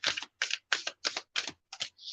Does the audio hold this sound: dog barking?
no